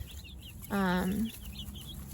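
Freedom Ranger meat chickens cluck, with one loud, close, throaty call standing out briefly; a person says a single word nearby.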